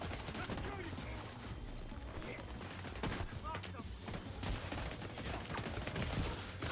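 Turret gunfire in The Division 2, a steady stream of rapid shots in a busy firefight, constant and dense with a few louder bursts.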